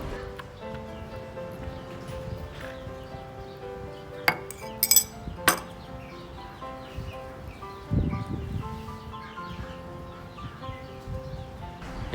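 Ice cubes clink and rattle in a glass as Thai iced tea is poured over them. A few sharp close knocks and clinks stand out against soft background music, followed by a low pouring rush.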